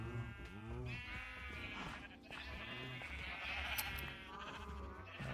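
Sheep in the Minecraft video game bleating over and over, several wavering bleats overlapping in a steady stream of game sound.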